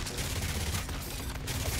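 Rapid bursts of gunfire fill a zombie defense video game, a dense, continuous clatter of shots at steady loudness with no break.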